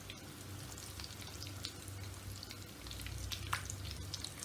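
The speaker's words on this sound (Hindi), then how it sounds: "ये तकरीबन 4 से 6 मिनट में हो जाएंगे फ्राई" Potato lollipop balls deep frying in hot oil, a steady dense crackling sizzle with soft bubbling that holds evenly throughout, close and alone with no voices.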